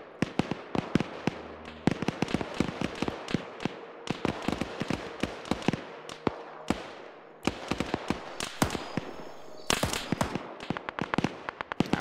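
Strings of sharp impacts and crackling blasts from mortar strikes in a video game operation, coming in rapid clusters with brief gaps, close and sustained throughout.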